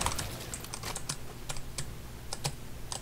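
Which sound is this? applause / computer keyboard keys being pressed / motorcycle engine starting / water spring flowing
computer keyboard keys being pressed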